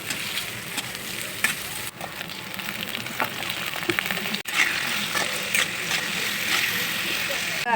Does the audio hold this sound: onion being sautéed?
yes